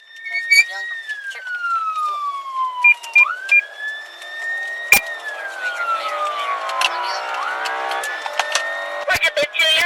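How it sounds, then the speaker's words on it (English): A police car siren wails in rising and falling sweeps during a high-speed chase, loud and continuous over road noise, with voices talking over it. "they activated their emergency lights and sirens"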